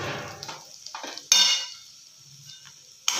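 Onion curry with coriander stirred in a pan, with scattered spoon scrapes and light metal clinks over a faint sizzle, a loud rasping burst in the middle, then near quiet before a final clatter.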